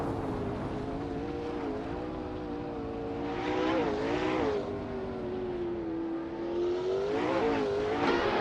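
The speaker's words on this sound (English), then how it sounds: "TTV Knolga 77 is starting on pole, driving a sleek 2018 McLaren Senna" A 2018 McLaren Senna in a racing video game at the start of a race, engine droning steadily then revving up in rising surges, with the pitch sweeping as it accelerates, loud and close, no talking.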